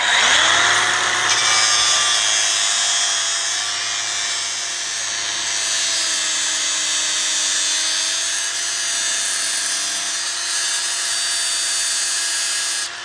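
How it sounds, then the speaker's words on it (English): A flap wheel on a power grinder works through metal in one long, loud, continuous whine with a steady high buzz. The pitch shifts slightly as pressure changes, and there is no talking. "the reason I'm using the flap wheel is it takes this sort of material faster than just the grinding wheel"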